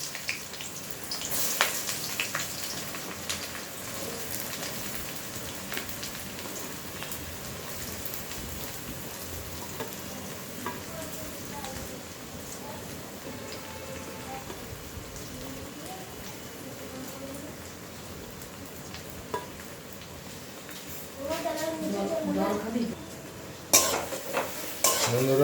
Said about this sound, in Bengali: পেঁয়াজগুলো একটু ফ্রাই করে নিতে হবে।